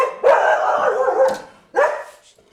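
An Afghan war dog, a female now living in America, gives two loud, close barks, the first drawn out into a long harsh bark-growl and the second short, with a brief pause between them and no talk.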